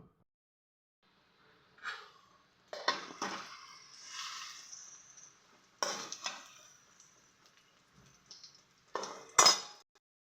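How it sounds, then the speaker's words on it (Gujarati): Dates sauté in ghee in a pan over low heat, heard as scattered spatula scrapes and metallic clinks against the pan in short bursts separated by near silence. "ઘીમાં ખજૂર નાખી દીધો છે અને ધીમા ગેસે આને સોતે કરી લેશું"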